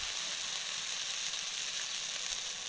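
Cumin paste hits a pan of spice mix and fries with a dense, even sizzle and hiss, close and constant for a few seconds, with no one talking.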